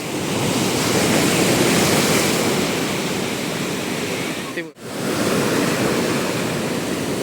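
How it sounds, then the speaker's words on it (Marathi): Sea waves crash loudly and continuously on the shore in a dense roar, broken by one brief dip before the surf surges again. "इकडून लाट आली ना ती एवढी गेली उडून आतमध्ये"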